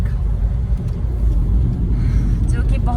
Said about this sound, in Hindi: कैनबेरा का ट्रैफिक